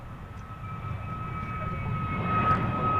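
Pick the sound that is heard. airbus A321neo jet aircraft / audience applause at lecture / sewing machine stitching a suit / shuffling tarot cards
airbus A321neo jet aircraft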